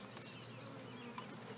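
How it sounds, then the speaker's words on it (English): Honey bees dumped near a hive buzz in a brief, faint swarm hum with a few higher whines close by, over a quiet outdoor background. "I've got some bees right here I just need to dump."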